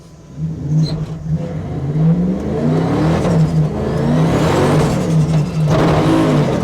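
A Nissan 200SX with a swapped-in 4.0 V8 accelerating hard, its loud, close engine note climbing steadily in pitch through several pulls, with no talking.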